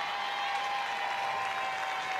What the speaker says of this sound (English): Great applause from the fans, even support from the fan base for that foul ball catch.